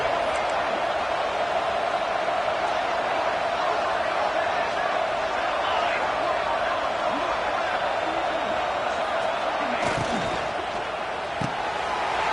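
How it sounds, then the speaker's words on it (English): A college football stadium crowd roars for the defense during an Oregon game red zone stand, a dense, sustained wall of noise throughout, with a few thumps near the end and commentary over it. "This crowd is trying to inspire this defense to make a big red zone stop."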